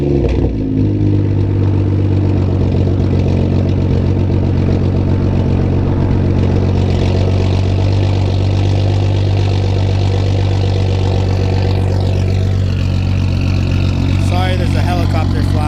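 A BMW M235i with a catless downpipe idles on a warm start, a loud, steady, deep exhaust drone that holds throughout with slight clatter and no speech over it.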